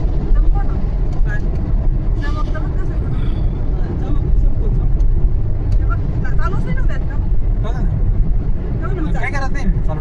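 A car cruising at about 90 km/h through a series of road tunnels makes a steady, loud interior rumble of road and engine noise, continuous throughout with people talking over it.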